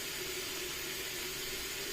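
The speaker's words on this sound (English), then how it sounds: "I'm going to pour it inside the pot." Liquid pouring steadily into a cooking pot, a continuous close hissing splash with no talk over it.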